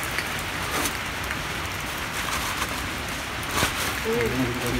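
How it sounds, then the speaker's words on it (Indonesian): Steady rain pours down on a mountain hiking trail on Mount Ungaran, a dense, close hiss with occasional louder drops and faint movement underneath. "Hujan guys, kita harus pakai mantol."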